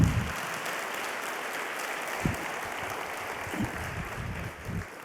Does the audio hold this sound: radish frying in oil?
no